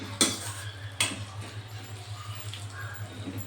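A spoon stirring a carrot and beetroot fry in a pan, with two sharp metal clinks near the start followed by soft scraping and quiet sizzling over a low steady hum.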